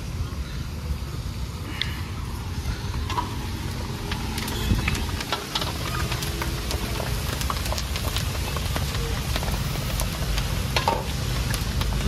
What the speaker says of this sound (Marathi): इथं वेपर्स तळायचं चालू आहे।